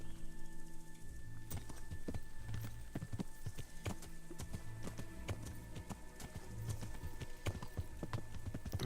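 Horse hooves trot in the video game Kingdom Come: Deliverance, a steady, close clip-clop that repeats over continuous ambient game noise.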